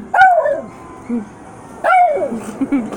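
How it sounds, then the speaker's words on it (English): A dog barks twice, close by, with short yips and whimpery tones between the barks. "Who are you barking at?"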